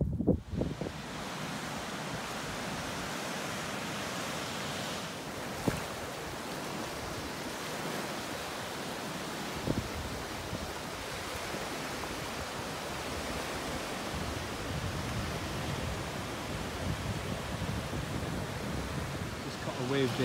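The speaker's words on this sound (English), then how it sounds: "Just caught a wave there, and that's a sea stack." Sea waves breaking near a sea stack on the Scottish coast, a steady loud wash of surf mixed with wind buffeting the microphone, with a couple of sharper knocks.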